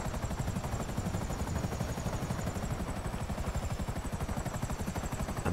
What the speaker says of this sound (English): this is an attack helicopter